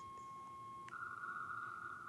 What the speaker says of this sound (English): if I add more sine waves